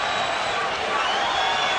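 A boxing arena crowd roars in a steady, dense wash of noise during a Carl Frampton vs Hugo Cázares fight, with no distinct voices standing out.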